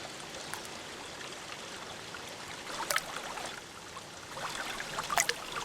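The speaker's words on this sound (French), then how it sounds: "Arrête de jeter des pierres, tu m'éclabousses." Stones tossed into water at Annot les Grès raise light splashes over a steady stream of flowing, trickling water, with a few sharper bursts standing out near the end; nobody speaks.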